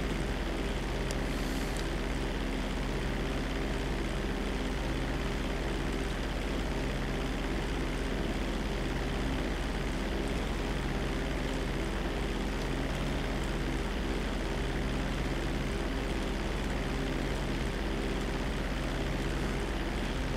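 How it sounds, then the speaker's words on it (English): A slow propeller aircraft drones steadily in GTA 5 Online, a constant loud engine hum with broad rushing noise that holds unchanged throughout, with no voices. "Karina, could you have gotten me a slower aircraft?"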